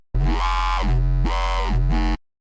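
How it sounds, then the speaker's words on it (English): Growl bass patch built in the Serum 2 synth, two thick buzzing sustained notes with a wobbling, vowel-like filter sweep, loud and alone with a brief gap between them. "I really like making the growl basses"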